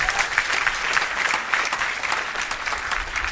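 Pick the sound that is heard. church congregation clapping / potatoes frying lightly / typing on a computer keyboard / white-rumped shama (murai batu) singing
church congregation clapping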